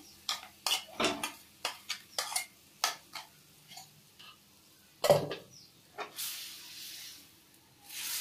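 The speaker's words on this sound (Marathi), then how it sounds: "हे व्यवस्थित मिक्स करून घेऊया।" A spoon scraping and clinking in a pan as masala paste is stirred into oysters for a Karwar-style dish, a run of sharp, evenly spaced metallic scrapes, then softer sizzle and hiss toward the end.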